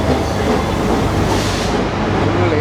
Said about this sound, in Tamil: ட்ரெயின் வருது. கொழும்பு ரயில்.